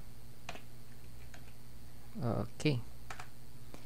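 Sparse, faint keystrokes on a computer keyboard tap in a quiet room, and a short spoken word breaks in midway.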